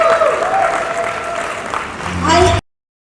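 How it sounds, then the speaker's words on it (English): An audience at a trailer launch event for The Family Man Season 3 claps loudly and continuously, and a voice speaks over the applause before it swells near the end and cuts off abruptly. "Give them a round of applause, guys."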